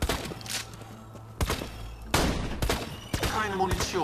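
Several loud gunshots from Borderlands 2 video game gunfire at a car, fired in separate bursts with sharp cracks and echoing tails, a mechanical clatter between shots, no talking.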